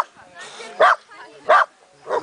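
A dog gives three sharp barks spaced evenly apart, close and fairly loud, with quieter sounds in the gaps between them.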